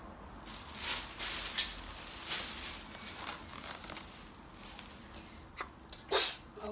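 A sneeze bursts out at the very end, sharp and close, following a few softer breathy sounds over a steady sizzling, hissing background.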